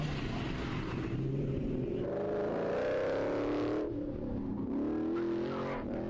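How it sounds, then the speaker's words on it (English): A Mazda Miata on an autocross course powers through a corner, its engine loud and close with rising and falling revs as the driver lifts and accelerates, tires scrubbing under the steady engine note. "Through corner dog nice and clean in the Miata."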